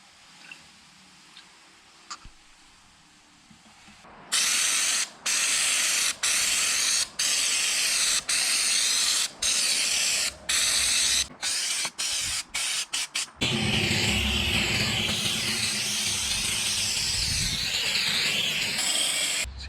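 Raptor liner bed-liner coating sprayed onto the inside of a fiberglass roof on an FJ40 Toyota, a quiet start then repeated loud hissing spray bursts in short pulses, ending in one long continuous spray, no voices.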